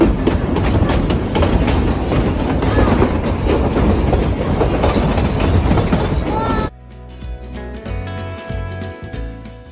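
The Puffin Billy steam train rattles along the rails through the Dandenong Ranges rainforest with steady clickety-clack for several seconds, loud and close, before the sound cuts to quieter background with music.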